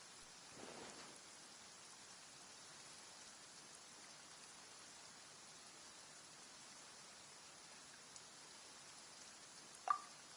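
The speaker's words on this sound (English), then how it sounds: "Why is it raining all of a sudden?" Faint, steady rain hisses softly in Genshin Impact, a low continuous patter with a brief louder tap near the end.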